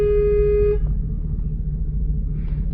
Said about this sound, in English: I'm trying to honk the horn to get him away now